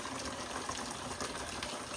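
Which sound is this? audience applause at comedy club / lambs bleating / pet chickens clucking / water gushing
water gushing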